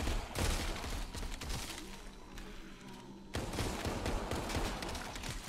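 Gunshots in the VR zombie game Arizona Sunshine come as sharp, close, repeated bangs and rapid volleys, carrying on steadily with little talk.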